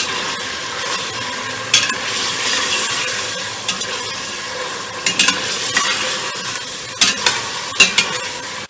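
Beef sizzles and fries in a pot for pulao, with constant close crackling and occasional sharp clinks and scrapes of a spoon stirring against the metal.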